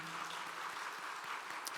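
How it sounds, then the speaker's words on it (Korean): Church congregation applauding to celebrate an infant baptism, soft and somewhat distant sustained clapping from many hands, fairly even throughout. "아기와 부모들을 위해서 박수로 축하해 주시길 바랍니다."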